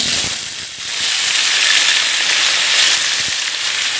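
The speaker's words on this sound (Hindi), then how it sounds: "इधर मैंने घी रख लिया है फ्राई पैन में डाल के, अब इसमें डालूँगी अरबी" Taro (arbi) pieces fry in hot ghee in a frying pan, giving a loud, steady sizzle with bursts of crackle and no talking.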